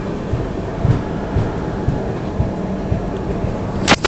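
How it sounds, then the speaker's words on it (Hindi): The Yoga Express passenger train rolls along the tracks below Gandhinagar Capital station, a loud steady rumble with faint rhythmic wheel clatter and a brief sharp squeal near the end, no talking. "नीचे से ट्रेन जा रही है हमारी योगा एक्सप्रेस"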